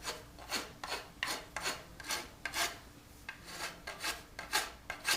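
A rasp filing a bow made of hard Ipe wood, with about a dozen rhythmic scraping strokes, each a short harsh rasp, close and clear with no talking.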